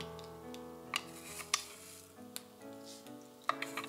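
Soft, steady sizzling of mustard seeds in hot oil for sambar, with sharp pops and crackles now and then, close and quiet, with a faint background hum.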